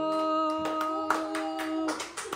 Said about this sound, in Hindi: ताली बजाओ भी।